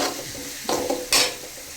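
Ingredients for upma being sautéed in a pan: close stirring scrapes and a few sharper clanks over a soft, steady sizzle, with no talking.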